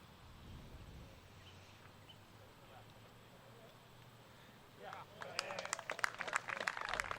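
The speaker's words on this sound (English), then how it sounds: "Crowd likes it. Getting some good applause." Applause breaks out from a crowd at a disc golf tournament, a burst of clapping that swells in after a stretch of quiet outdoor ambience and continues to the end, with talk faintly underneath.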